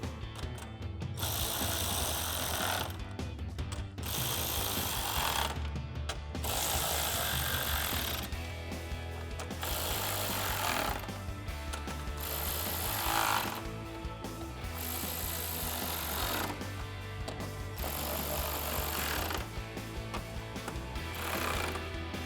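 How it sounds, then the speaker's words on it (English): Bolts on a 2019-2024 RAM 1500 headlight and radiator area being tightened with a 10mm socket ratchet, giving steady close mechanical clicking in repeated bursts separated by short pauses, with no talk. "we'll tighten all of these down with a 10mm socket"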